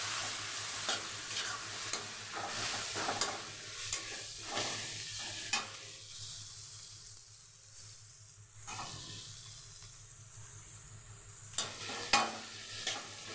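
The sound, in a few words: ginger garlic paste and chopped tomato sautéing in pan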